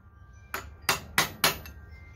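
Four sharp metallic hammer blows strike a chisel driving a seal down on a Cummins 6BT diesel engine, spaced roughly a third of a second apart, close and crisp over a quiet background.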